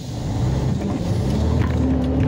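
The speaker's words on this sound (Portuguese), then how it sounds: "Queimou o pneu." An Iveco truck spins its tires in a burnout, the engine revving hard in a loud, continuous low roar that rumbles steadily throughout.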